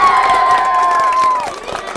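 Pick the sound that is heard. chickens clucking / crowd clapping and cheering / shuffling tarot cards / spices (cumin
crowd clapping and cheering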